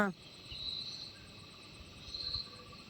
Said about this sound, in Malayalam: നല്ല സന്ധ്യ മയങ്ങിയേ ചീവീട് കരയെന്ന് ഒച്ചയാ